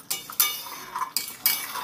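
A spoon stirs ghee and garam masala in a cooking pan over low heat, giving several sharp metallic clinks and scrapes in an irregular rhythm, close and fairly quiet, with no talk.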